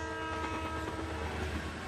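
A train horn blares in a steady, sustained tone over the low, continuous rumble of a passing train, loud and close, with no talking.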